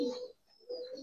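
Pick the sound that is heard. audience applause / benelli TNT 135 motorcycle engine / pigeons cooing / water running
pigeons cooing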